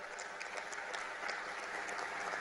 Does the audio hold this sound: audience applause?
yes